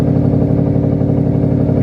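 Engine of a 2004 Lexus GS with a modified exhaust, idling in a loud, steady low rumble with even pulsing, close to the microphone and with no talk.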